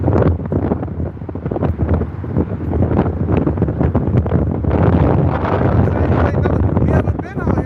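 Strong wind buffets the microphone in loud, continuous, gusting roars close up, with a voice faintly audible beneath the blowing.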